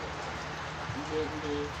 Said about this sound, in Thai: บรรยากาศฝนตกลินลินนะครับ